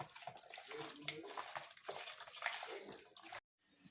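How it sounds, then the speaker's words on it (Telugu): Water bubbling and rushing steadily in a pot, boiling for biryani rice, close and fairly loud, cutting out abruptly near the end before a faint hiss returns. "నీళ్ళు అయితే పెట్టాం మరుగుతున్నాయి నీళ్ళు"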